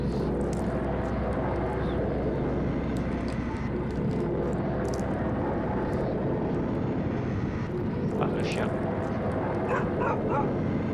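A dog in the video game Claire barks and yips in short repeated bursts, clustering near the end, over a constant low droning ambience.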